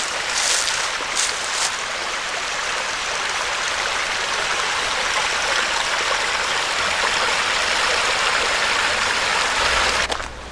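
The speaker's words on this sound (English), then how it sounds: "Good to hear the sound of running water though." A small woodland stream at Kings Gap State Park in Pennsylvania runs steadily beside a picnic area near a pond, giving a constant close rushing and trickling wash with no voices.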